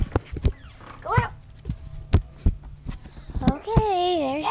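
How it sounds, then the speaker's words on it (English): A dog barking at a passing truck, several short sharp barks mixed with someone talking nearby, ending in a drawn-out whining howl. "She barking at this truck."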